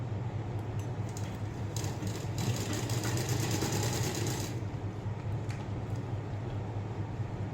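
A sewing machine stitches a blouse at a steady, continuous hum with a faint rapid needle patter, rising slightly in the middle before settling back to an even drone.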